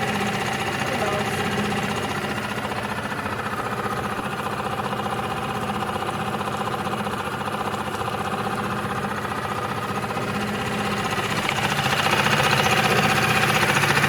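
A sailboat's outboard motor pushing the boat at low speed on Lake Constance, a steady droning hum with constant vibration, close and continuous, and a voice faintly mixed underneath.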